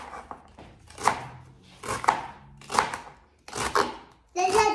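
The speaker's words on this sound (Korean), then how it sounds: "약간 이렇게 채를 썰어서 약간 샐러드 식으로" A kitchen knife julienning napa cabbage on a board for geotjeori salad, giving about five separate bursts of chopping roughly a second apart, close and fairly loud with no talking.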